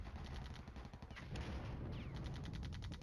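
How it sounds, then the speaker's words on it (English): Heavy gunfire from an AC-130 gunship in the video game Flashpoint Campaigns Red Storm, a continuous rolling barrage of rapid shots and booms pounding a command headquarters, loud and dense throughout with no voices. "firing ordnance at the command headquarters, destroying everything that's there"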